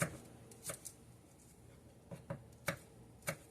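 A knife dices garlic cloves on a cutting board, making faint, sparse taps, some single and some in quick pairs, with quiet gaps between them.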